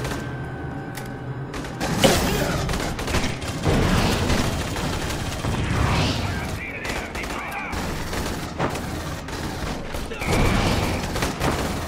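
Loud, repeated bursts of automatic gunfire in Aliens: Colonial Marines co-op play, shots and booms clustering in rapid volleys with a player talking over them.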